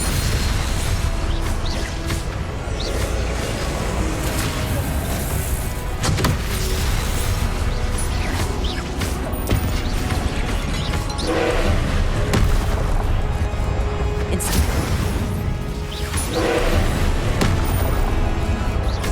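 Confringo fire-spell blasts in Hogwarts Legacy, with repeated loud bursts and booms cutting through a dense, continuous roar of game noise.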